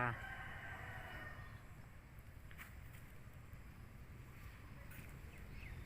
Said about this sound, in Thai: สงสัยจะเป็นลมพัดลมนะท่านผู้ชม